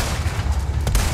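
A gunshot in the video game Resident Evil 4, one short burst near the end over a dense, rumbling game soundscape with steady low-end noise throughout.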